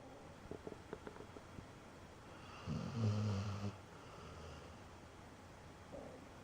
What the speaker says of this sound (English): if you can hear any background noise like that, it's my dog snoring